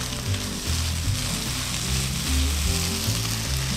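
Kimchi fried rice with sesame oil and sliced scallions sizzles loudly in a hot pan as it is stirred, a dense, continuous frying crackle with scraping movement underneath and no talking.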